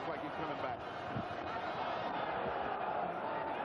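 A sell-out boxing arena crowd of 11,000 roars continuously at a middleweight fight, a dense steady wall of cheering and shouting from many voices that neither rises nor fades.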